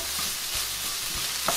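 Green vegetables fry and sizzle in a pan, a steady hiss broken by a few soft stirring knocks, close and alone.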